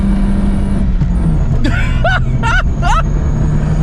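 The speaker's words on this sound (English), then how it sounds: "All right, first gear, rev it up." A RAM TRX truck held in first gear revs in a series of short, rising engine surges over a steady low idle rumble, with other vehicle noise in the background.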